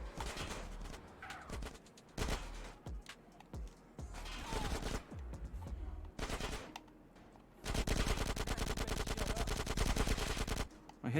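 Gunfire in Grand Theft Auto: San Andreas, scattered shots and short bursts early on, then a long sustained burst of automatic fire near the end.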